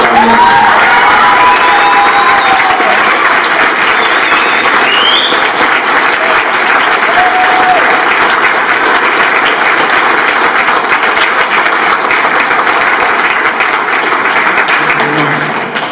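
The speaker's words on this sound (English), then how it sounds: "can we really just give him applause for serving?" Loud, sustained applause with cheering and some shouts fills a banquet hall as an audience claps for a man, dense and unbroken for the whole stretch, with a few voices calling out over it.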